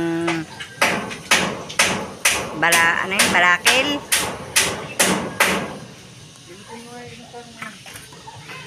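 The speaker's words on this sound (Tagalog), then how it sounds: "Pinapako na po ni Tatay Roman ang yero" Corrugated metal roofing sheet being nailed down by hand, about ten sharp ringing hammer blows in a steady rhythm, loud and close, then stopping as someone talks briefly afterward.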